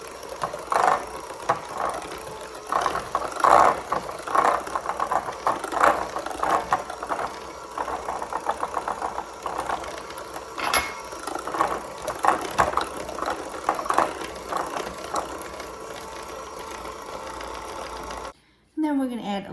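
Electric mixer beating chocolate chip oatmeal cookie dough with an egg, a continuous close whirring drone with rhythmic clatter that runs nearly the whole time before cutting off briefly near the end.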